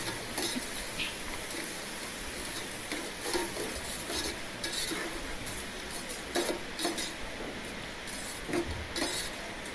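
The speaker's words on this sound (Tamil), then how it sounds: "இந்த காயெல்லாம் போட்டுட்டு நல்லா வதக்கி விடுங்க." Vegetables for kichadi are stirred and sautéed in a pan over a medium flame, with soft scraping, faint sizzling and occasional light clinks of a spoon against the pan, fairly quiet throughout.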